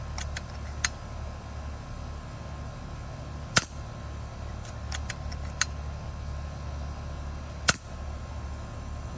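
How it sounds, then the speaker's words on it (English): An FX Impact M3 air rifle fires test shots: two sharp, loud cracks several seconds apart, with smaller clicks and ticks between them over a low steady background hum, and no talking. "So we're gonna go ahead and do a couple of test shots here."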